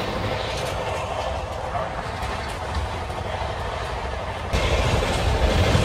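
Shantiniketan Express train running at about 130 km/h while overtaking a Howrah–Bardhaman local near Gobra station, a steady loud rush of wheels and rail rumble with rhythmic clatter, swelling louder near the end.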